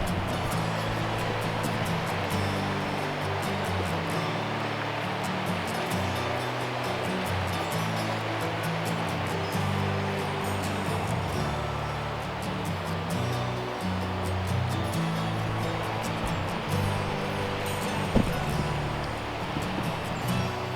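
A river in North Carolina elk country rushes past nearby, a broad, steady wash of flowing water holding even and fairly loud throughout, with no break or change in intensity.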